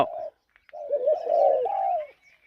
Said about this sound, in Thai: นกป่าเริ่มขันแล้วครับ